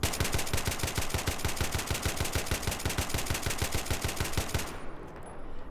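Rapid bursts of AK-74M rifle fire in the Battlefield 3 game, tapped in a steady, evenly spaced rhythm of loud sharp shots for several seconds before stopping abruptly, with no talk.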